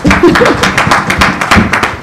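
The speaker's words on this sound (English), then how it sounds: "Let's give them a round of applause." Dense clapping from an evening audience at a Caribbean teachers' event in Barbados, steady broadband claps lasting the full two seconds, close and loud with no one speaking.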